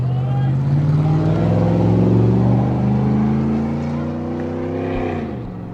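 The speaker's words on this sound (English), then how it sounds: "that F-150 revved her up pretty good" A Ford F-150 pickup revs its engine near a baseball field, producing a loud, sustained droning roar that holds steady and then eases slightly, its pitch wavering toward the end.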